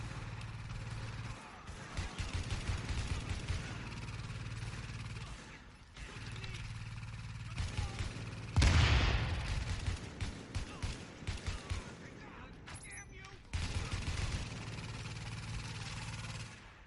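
Gunfire in the video game The Division comes in several separate bursts of rapid shots with mechanical clatter, loud and close, broken by short pauses.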